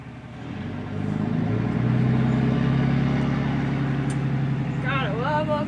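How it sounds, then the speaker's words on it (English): A loud truck passes close behind a person outdoors in Oklahoma, its deep engine rumble swelling and holding steady while the person keeps talking over it. "There's a really loud truck behind me, 1 second."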